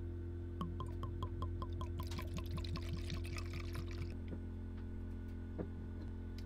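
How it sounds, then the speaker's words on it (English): Madeira wine pours into a glass as a small, gurgling trickle with quick dripping ticks over a steady mechanical hum, then the flow stops and the hum continues alone. "Tiny pour because it is incredibly strong."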